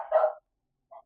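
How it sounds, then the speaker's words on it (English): A dog barks once nearby, a short sharp bark, followed by a faint second yip after a brief silence. "I won't have a dog barking in the background every 5 seconds"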